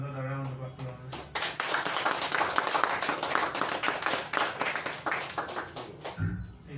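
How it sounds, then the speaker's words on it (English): A crowd at a government press briefing in Sierra Leone claps in a sustained round of applause lasting several seconds, with voices heard briefly at the start and end. "I ask us kindly as Sierra Leoneans to give another round of applause."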